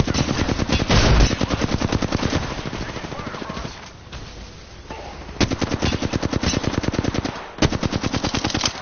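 Video game gunfire, long bursts of rapid automatic fire close by, broken by short pauses and a few single shots, with a player's voice talking faintly underneath at times.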